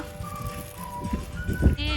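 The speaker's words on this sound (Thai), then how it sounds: "แกะกำลังกินอะไรกันอยู่กินหญ้า" Sheep at a farm in Pattaya let out a couple of wavering bleats, close and fairly loud, with other farm noise and faint voices around them.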